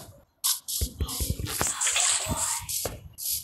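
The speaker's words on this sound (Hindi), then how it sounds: "ये यहाँ से हम पानी लेके जा रहे हैं" Water being scooped up and carried in Minecraft, heard as bursts of splashy, dripping water effects over a close game soundscape.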